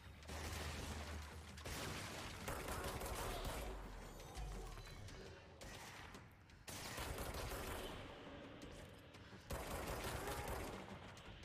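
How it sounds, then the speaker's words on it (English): Sustained automatic gunfire in a Stadia shooter game, long dense bursts of rapid shots broken by short pauses, loud and close, with mechanical clatter mixed in and no talk over it. "Who's shooting at me?"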